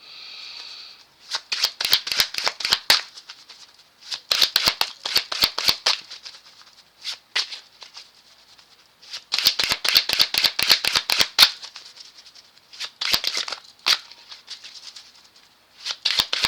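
Tarot cards shuffled by hand in repeated bursts of crisp riffling and flapping, several shuffling runs separated by short pauses, close and fairly loud with no talking.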